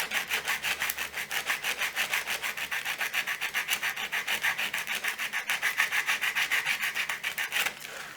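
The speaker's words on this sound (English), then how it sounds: "you put the sanding paper on this rounded surface" Sandpaper laid over a rounded surface rasps against a hand-cut calligraphy pen in a fast, even back-and-forth rhythm of scratchy strokes, close and continuous until a brief pause near the end.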